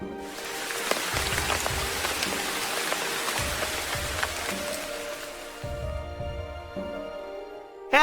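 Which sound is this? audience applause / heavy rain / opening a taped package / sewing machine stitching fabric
heavy rain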